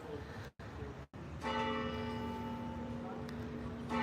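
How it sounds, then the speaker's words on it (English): A church bell rings out with a sustained, resonant tone that lingers and hums over steady background noise, clearly audible and fairly close. "Oh, it's 9 o'clock. We're getting church bells."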